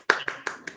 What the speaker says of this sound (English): And big clap for himself.